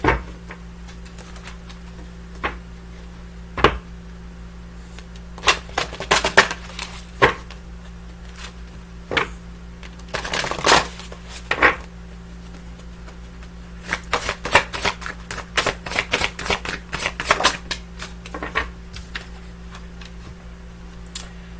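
A deck of prayer cards is shuffled in several irregular bursts of riffling and flicking, close and fairly loud, separated by quieter pauses over a steady low background hum.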